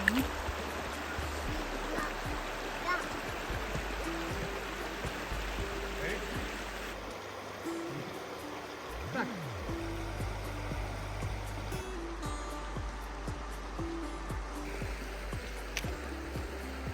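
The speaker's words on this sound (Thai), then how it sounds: "เสียงน้ำไหล" A cold forest stream flows over mossy rocks with a continuous rushing babble nearby, and a voice speaks briefly now and then over the water.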